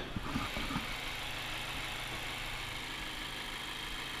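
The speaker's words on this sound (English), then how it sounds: "Skyactiv engine ticking away." A 2015 Mazda 3 with a Skyactiv engine and about 35,000 miles idling, a steady low hum and faint ticking that stay even throughout, with a couple of brief knocks near the start and no talk.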